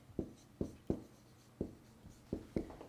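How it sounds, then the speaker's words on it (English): Writing on a board comes through as a series of quick, distinct marker or chalk strokes, about seven short taps and scrapes in an uneven rhythm, close and fairly quiet, with no talking. "I'm going to write it down for you"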